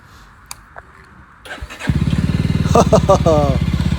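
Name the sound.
Jawa 42 motorcycle engine starting with self-starter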